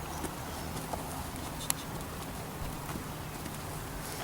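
A horse's hooves walk steadily while it is ponied in a round pen, giving a soft, faint, regular clip-clop with no talking.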